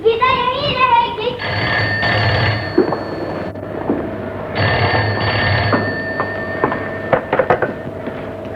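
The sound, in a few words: telephone ringing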